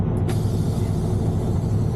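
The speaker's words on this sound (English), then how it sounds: "Now I'm going to set both brakes." Air brakes on a truck being set during an in-cab CDL pretrip check, a sharp hiss of released air near the start followed by a steady low idling rumble from the engine.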